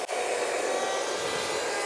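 Electric mixer beating cookie batter made with egg yolks, a steady close whirring drone that runs unbroken for about two seconds with no talk.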